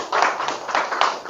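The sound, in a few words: audience applause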